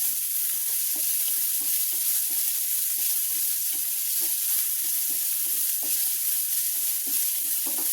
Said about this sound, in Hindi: प्याज को भून लेते हैं।